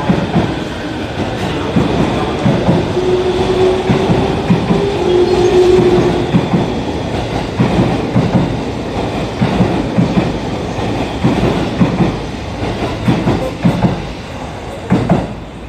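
An E231-500 series train rumbles loudly into Shinjuku station along the tracks with rhythmic clacking and a brief squeal of wheels, steady and close, no voices.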